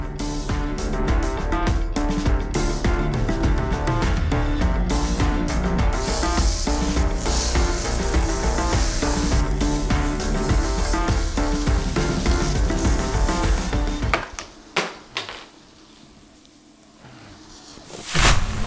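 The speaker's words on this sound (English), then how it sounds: "they went into a cast iron skillet with oil and a hot pan only, salt only used to season" Steaks searing in oil in a hot cast iron skillet, a steady loud sizzle and crackle that runs unbroken for about fourteen seconds, then drops off sharply to quiet handling noises before a brief burst at the end.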